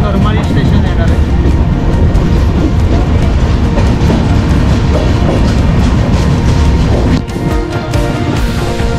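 A train running on the railway toward Karmali station in Goa, a loud steady rumble with rattling wheel noise close by, easing slightly near the end.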